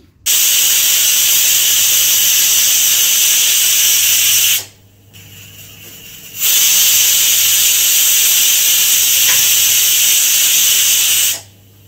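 A pressure cooker whistles while boiling vegetables, giving a loud, steady steam hiss in two long blasts separated by a short quieter pause, heard close with no talk.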